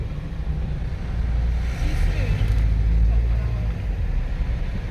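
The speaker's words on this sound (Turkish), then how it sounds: "her yerden araba çıkıyor. Hiç birbirini bekleyen yok." City traffic on a road near Çorlu, heard from inside a car: a steady low engine and road rumble, with passing vehicles swelling briefly in the middle.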